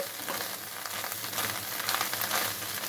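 Fish egg fry sizzles in a pan on the stove while being stirred, a steady close crackle of frying with soft scraping movements, no voices.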